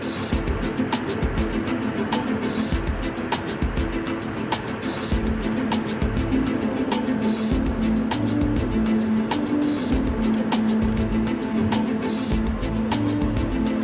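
From inside a car on a rough, heavily patched mountain road, a continuous low road and engine rumble is punctuated by repeated sharp thumps and rattles as the tires cross bumps and seams.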